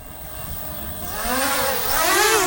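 Motors of an S188 GPS drone spin up into a rising, wavering whine that sweeps upward and swells louder, steady and close with no talk.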